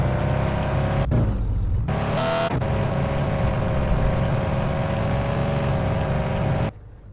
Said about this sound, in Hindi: अबे इस गाड़ी की खाली आवाज़ सुनो भी, क्या सही आवाज़ है इस गाड़ी की।